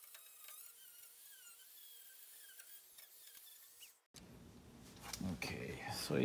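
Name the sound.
Dremel rotary tool cleaning dust off vintage gas valve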